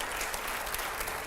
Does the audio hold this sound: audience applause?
yes